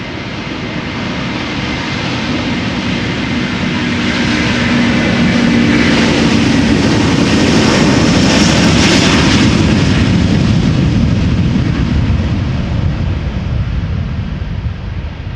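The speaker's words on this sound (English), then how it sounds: "another Delta A330, this one going to Atlanta, Georgia, spooling up" A 19-year-old Delta Air Lines Airbus A330 bound for Atlanta spools up its jet engines for takeoff at Amsterdam Schiphol, a loud, sustained broadband roar that swells steadily, peaks in the middle and stays heavy to the end, with wind buffeting the microphone.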